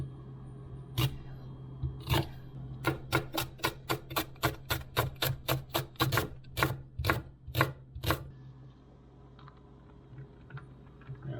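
A knife cuts skinned crappie fish into cubes for pizza on a cutting board, giving about fifteen crisp, close chops in a quick rhythm that later spreads out, over a low steady hum with no talking.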